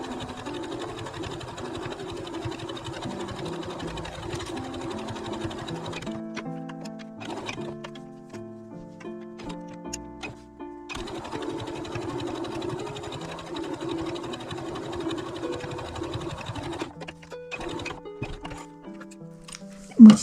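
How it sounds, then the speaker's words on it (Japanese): Domestic sewing machine running two passes of edge stitching along a folded fabric strap for a zippered pouch, steady whirring bursts with a short pause and handling clicks between runs, close and alone. "端ミシンを2回かけます"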